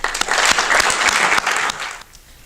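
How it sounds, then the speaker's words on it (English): A crowd claps steadily in a full, dense burst of applause that fades out toward the end. "I'd like to have a round of applause for all of our friends who have helped us out."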